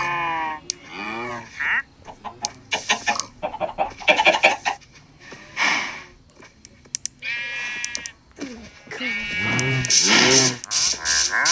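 Minecraft chickens cluck in short bursts mixed with repeated sheep bleats from in-game farm animals, loud and close with no talking.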